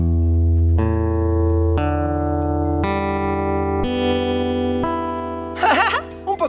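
Guitar strings are strummed one after another in a museum exhibit, six sustained, slightly out-of-tune chords each ringing and decaying, closing with a short burst of brighter noise.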